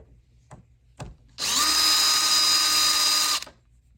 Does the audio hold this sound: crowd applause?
no